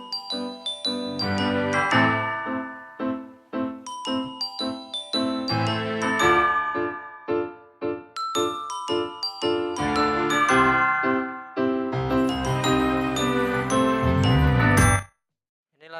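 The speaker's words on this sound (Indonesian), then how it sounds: "Kalau kita putar spinnya atau tombol timernya hanya bunyi saja." The spin timer knob on a twin-tub washing machine rings repeatedly as it is turned while the spin drum will not rotate, giving a steady run of bright, close metallic dings and chimes that ends abruptly.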